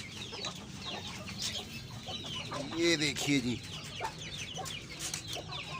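Shamo breed roosters, hens and chicks cluck and squawk in a pen while being fed grain, a busy close chorus of overlapping calls with a louder squawk midway and someone talking briefly.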